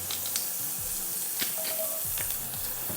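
Garlic clove hitting a drizzle of oil in a hot pan gives a steady, close sizzle with soft stirring clatter throughout, no talking.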